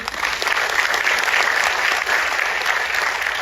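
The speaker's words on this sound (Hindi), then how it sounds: "एक बार आपके लिए ताली बजवा दें।" A business-seminar audience applauds steadily and loudly in a dense round of clapping that lasts throughout, with no pauses.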